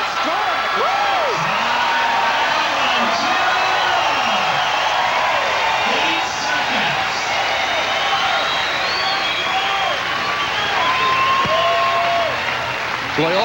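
A volleyball crowd at a 1994 AVP beach tournament quarter-final in Milwaukee cheers after a point, with loud, sustained applause, whoops and shouting that fill the whole stretch. An excited announcer talks over the roar.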